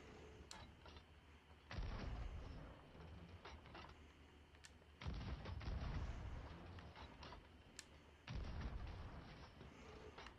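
Cannons fire from an island fort in the Sea of Thieves pirate video game, three loud booming volleys a few seconds apart over a creaking, rumbling background.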